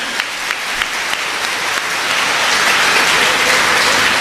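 An audience at a Tamil motivational speech bursts into applause, a steady wash of clapping that swells and grows louder over a few seconds, with no voices over it.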